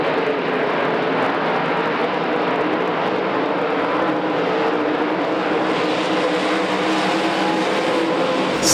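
Modified race cars racing at Knoxville Raceway: a steady, dense roar of engines in full cry that holds throughout, with no breaks and no voices.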